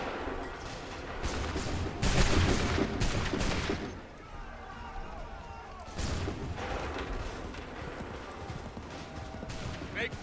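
Soldiers' muskets in Assassin's Creed 3 fire in loud, crackling volleys, one heavy cluster of shots early and another burst later, over a busy battlefield din with shouted orders.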